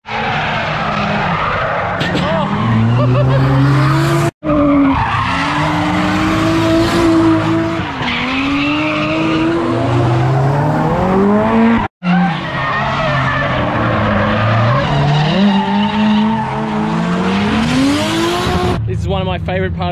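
A car drifts on the track at Norwell Motorplex, its tires squealing loudly and continuously for about twenty seconds. The shrieking pitch swoops up and down over a roaring engine, broken by two brief gaps.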